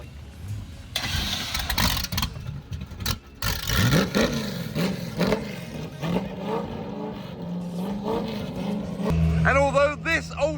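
Ultima supercar engine bump-started, coughing and catching, then revving hard in repeated rising bursts that settle toward a rough idle, loud and close, with people talking over it.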